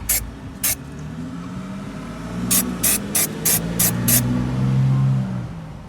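Short, sharp hisses from an aerosol spray can applying paint to car parts for a 1992 Honda Civic EG hatch: two separate bursts, then a quick rhythmic run of five or six pulses, close up over a low engine-like hum.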